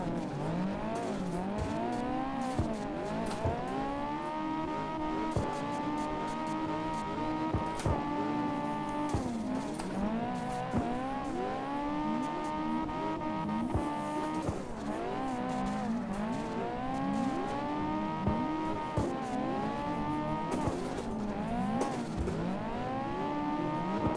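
Car engine from CarX Drift Racing Online, a racing sim played on a Moza R9 V3 wheel, holding a steady whining rev with repeated tire squeals through drifts, loud and continuous with no talking.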